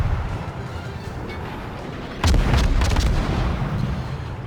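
Warship guns fire a heavy salvo during ranked play in World of Warships, a deep booming blast midway that rolls into a sustained rumble over steady game background noise.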